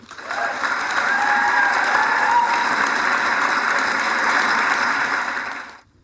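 Sustained audience applause welcoming a speaker to the stage at a science talk event, a dense wash of clapping that swells in quickly, holds steady for several seconds, then stops abruptly.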